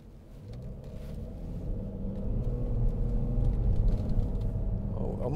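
Audi Q7 6.0 TDI V12 Tiptronic Quattro diesel SUV on the move, a deep steady engine and road rumble heard from inside the cabin, gradually growing slightly louder.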